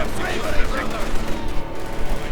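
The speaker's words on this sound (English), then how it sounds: "there we go, field gun firing away" A field gun fires during a Company of Heroes 2 battle, a loud burst of booming gunfire and rattling shots layered over dense battle noise, with a commentator talking over it.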